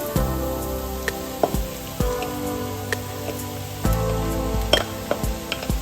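Grated mushrooms fry with onion and garlic in a pan, a dense steady sizzle broken by sharp crackles and occasional stirring scrapes, close and loud with no talk.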